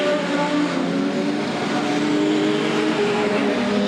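A production sedan race car driving through turns 3 and 4 on a racing oval: a loud, continuous engine roar holding a steady pitch at close range, without pauses and without any talk.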